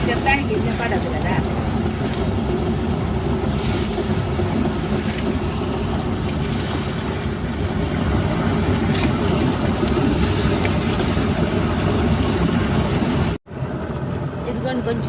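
A kitchen grinder churns jowar grains for dosa batter, a loud, continuous rumbling whir that runs steadily close by, cutting off abruptly near the end.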